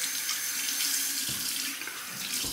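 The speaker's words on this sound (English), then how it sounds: "Rinse the razor." Steady running tap water splashes into a sink as a Rockwell 6S safety razor is rinsed, a continuous close hiss with brief shifts where the blade passes through the stream.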